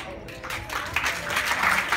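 Guests at an annual dinner applaud, a soft, steady wash of clapping from a room full of people that builds slightly over a couple of seconds.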